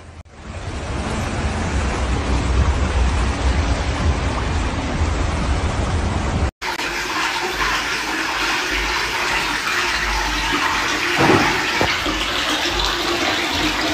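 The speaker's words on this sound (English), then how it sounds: "the flood quickly submerged city streets, swept away several cars" Floodwater rushes loudly through city streets in Malaga during a flash flood, a dense continuous roar of churning water throughout, with a brief break midway and occasional thumps and splashes near the end.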